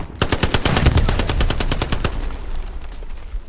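Rapid automatic gunfire from a video game, a fast burst of loud, evenly spaced shots that stops after about two seconds.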